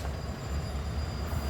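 Locomotives fired up at FEC's Bowden Yard in Jacksonville, a steady low diesel rumble that holds evenly, heard from nearby.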